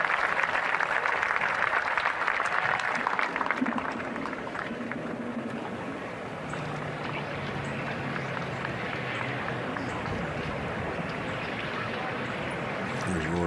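A golf gallery at The Masters applauding, a broad wash of clapping that swells at first and then settles into a sustained steady patter, with a commentator talking over it.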